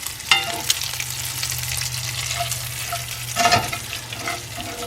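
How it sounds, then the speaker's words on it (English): Steady crackling sizzle of bacon frying in a pan inside an RV, continuous and close, with a brief clatter of utensils partway through. "You got that beautiful bacon sound, sizzling"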